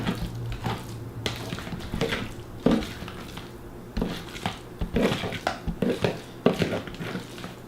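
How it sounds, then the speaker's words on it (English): Egg salad stirred in a bowl, with irregular wet squishes and a spoon scraping and clinking against the bowl, fairly close and moderately quiet. "you mix it up"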